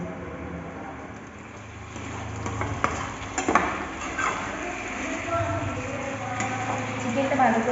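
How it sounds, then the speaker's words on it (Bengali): Chicken pakoras dropped one by one into a thick, sizzling chilli sauce mixture in a pan, steady frying hiss with scattered clinks and stirring knocks from utensils against the pan, moderately quiet, with a voice speaking over it. "এবার এর মধ্যে আমি একে একে অ্যাড করবো চিকেনের পকোড়াগুলো।"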